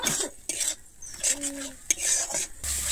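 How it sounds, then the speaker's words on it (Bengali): A spoon stirs turmeric into tomato masala in a pan for a Bengali cauliflower roast, making intermittent scraping and clinking strokes against the metal over a faint sizzle. "হলুদটা দিয়ে আমি আবারও খুব ভালোভাবে এখানে মিশিয়ে নেব।"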